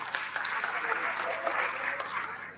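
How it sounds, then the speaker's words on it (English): An audience at a formal event honouring Nigeria's First Lady applauds, steady mid-distance clapping from a crowd lasting a few seconds. "Please, a round of applause for that."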